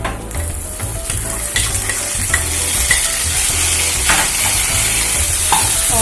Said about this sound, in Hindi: अब इसमें हम डालेंगे चॉप टमाटो,